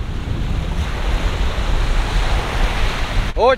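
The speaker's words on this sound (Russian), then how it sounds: "Очень сильный ветер" Strong, hot wind roars over crashing surf on the Caspian Sea coast in Kazakhstan, with heavy buffeting noise on the microphone throughout; a brief voice cuts in at the very end.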